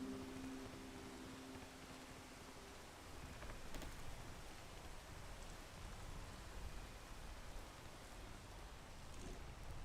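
Steady rain falls in the survival video game Peak, a faint, even hiss of droplets that runs unbroken throughout with no speech.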